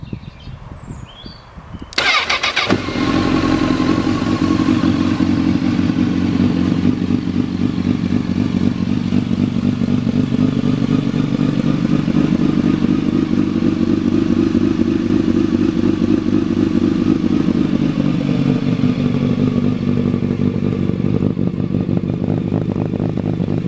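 A motorcycle engine cranks and catches with a sharp start, then settles into a steady, loud idle close by that runs unbroken for over twenty seconds, the pitch wavering slightly as it warms.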